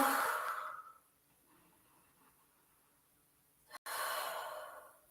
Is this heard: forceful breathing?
yes